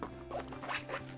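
A zipper on a pouch holding sketching supplies is pulled open in one quick, close, raspy run lasting about a second, with no voices over it.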